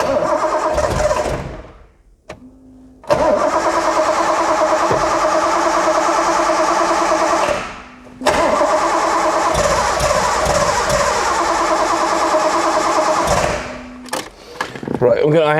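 A Datsun L28 inline-six being cranked by the starter in repeated bursts, separated by gaps, before it catches and runs, heard close in an engine bay with no speech.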